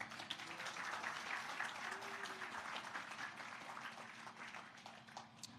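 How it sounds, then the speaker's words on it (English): Applause from an audience at an evening gala event, a steady wash of clapping lasting several seconds, moderately loud at first and thinning slightly toward the end, with faint background voices. "Let's give Laura a round of applause."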